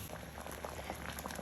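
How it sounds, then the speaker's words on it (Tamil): Soaked sago pearls boiling in a cup of water for condensed milk sago halwa, a steady soft bubbling and simmering throughout with no talking. "அதை நான் இப்போ ஒரு கப் தண்ணியோடு கொதித்து இதை அவிய விட போகிறேன்."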